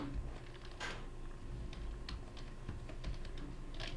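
Computer keyboard being typed on and the Enter key pressed, irregular quiet clicks and taps at close range with no speech.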